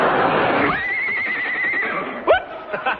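A horse whinnies close by in a long, high, wavering neigh, followed by a short snort and a few clip-clop-like knocks.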